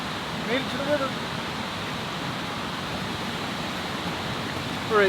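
Steady broadband rush of a river flowing along a forest path, a constant close wash of water with a few faint voices or birds over it.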